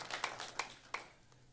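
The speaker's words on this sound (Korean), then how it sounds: "이렇게 박수 쳐도 돼요" A small congregation claps briefly at a Korean church worship service, a few light, scattered hand claps that thin out over about a second, soft and slightly distant.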